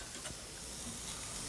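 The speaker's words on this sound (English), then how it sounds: "I kept hearing that sizzle, so I was digging out a spoon." Food sizzles steadily in a hot pan in a restaurant kitchen, a constant close hiss of frying that holds for the whole moment with no talk over it.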